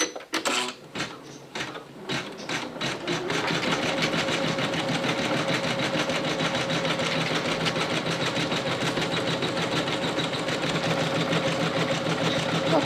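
An embroidery machine sews a triple bean stitch through two layers of felt for an in-the-hoop teddy bear. A few starting clicks give way to a steady, rapid, close-up mechanical stitching rhythm.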